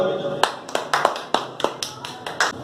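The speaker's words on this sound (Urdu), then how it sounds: "آپ کی زوردار تالیوں میں" An audience at a church gathering claps in scattered, uneven bursts, about a dozen crisp, close claps from a small group rather than a full roar.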